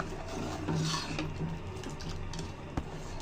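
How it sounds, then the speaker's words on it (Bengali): A spoon scrapes and rubs against a pan while custard mixture is poured in and stirred, a soft continuous scratching with faint clinks close by, no voices. "এভাবে এক হাতে ঢেলে দিতে হবে আর এক হাত দিয়ে নাড়া দিয়ে নিতে হবে"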